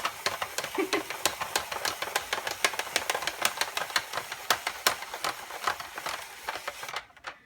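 A hand-crank spiralizer cuts zucchini into noodles with a rapid, regular run of sharp clicks and crunches as the crank turns, close and fairly quiet, stopping near the end.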